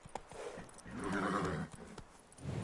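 Roach the horse trots in The Witcher 3, with quick clip-clop hoofbeats, snorting and a whinny, close and clear over a low background.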